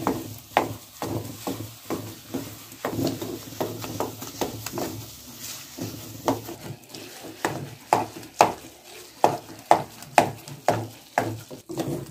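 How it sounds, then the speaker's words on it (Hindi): A spoon scrapes and knocks repeatedly against a pan while stirring thick makhan halwa cooking in ghee, producing irregular close taps and scrapes over a faint sizzle. "साथ साथ इसे लाजमी हिलाना है ताकि ये चिपक ना जाए।"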